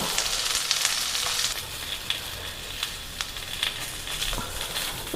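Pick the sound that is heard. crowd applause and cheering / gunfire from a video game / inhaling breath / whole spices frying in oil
whole spices frying in oil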